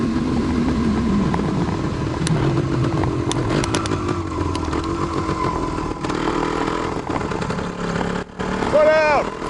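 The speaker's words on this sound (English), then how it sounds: "Usually you get on the road in a two-stroke, it sounds like they're working hard." A 1974 Yamaha DT250 two-stroke motorcycle being ridden, its engine buzzing and revving steadily up close with rising and falling pitch, while people speak over the ride.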